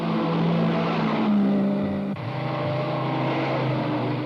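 Racing cars in a long-distance road race roar past at close range in a dense, steady engine drone, with a brief dip and change in pitch partway through.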